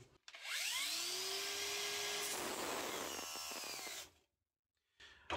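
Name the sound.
cordless angle grinder under load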